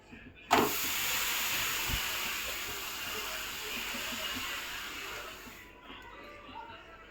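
A sudden loud sizzle erupts as a bottle gourd thalipeeth flatbread with oil hits a hot griddle over a high flame, then a steady frying hiss continues before fading near the end.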